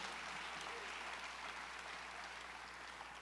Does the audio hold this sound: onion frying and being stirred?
no